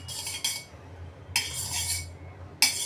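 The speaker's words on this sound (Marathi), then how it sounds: "आता आपण हे जे साजूक तूप घेतले ते घालून घेऊ" Ghee spooned into a pan for sweet corn soup: a metal spoon clinks and scrapes against the cookware three times, brief bright strikes over a low steady hum, with no talk.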